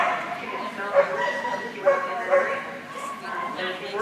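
Dog barking and yipping excitedly just before an agility run at a dog agility trial, with repeated close barks over background voices.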